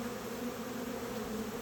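A swarm of honey bees being settled into a nuc box hums in a dense, steady buzz, close and continuous throughout with no voices.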